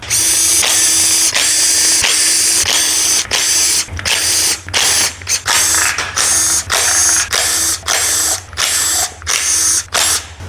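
Power ratchet or drill spinning out 10 mm oil pan bolts on a Ford 4.0 OHV engine block in a Ford Ranger, in about a dozen loud close bursts separated by short pauses.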